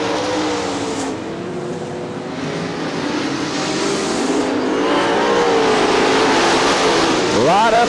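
Super late model race cars pack the Crystal Motor Speedway in Crystal, Michigan, their engines a continuous, layered roar that builds steadily, with a sharp rising whine of a car sweeping close at the very end.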